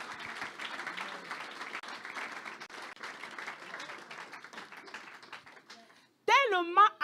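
A church congregation breaks into steady applause that fades out over several seconds, followed by a sudden loud sung or amplified voice.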